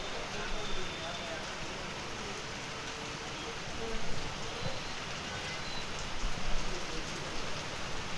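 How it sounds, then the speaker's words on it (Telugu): Heavy rain pouring down during a thunderstorm in Chittoor district, Andhra Pradesh, a dense steady wash of falling water that is unbroken for the whole stretch with slight surges, heard alone. "ఉమ్మడి చిత్తూరు జిల్లాలో ఉరుములు మెరుపులతో ఆగకుండా వర్షం కురుస్తూనే ఉంది."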